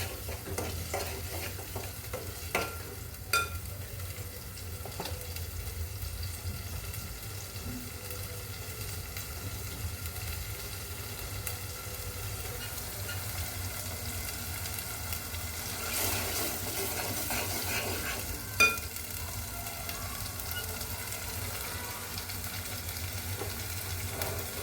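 Masala paste roasts in a pan as it is stirred, giving a low steady sizzle under soft scraping and occasional faint clicks of the spoon, quiet and continuous with no speech.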